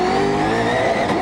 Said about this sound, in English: He's going to go all the way down to second gear and listen to the engine spin the wheels.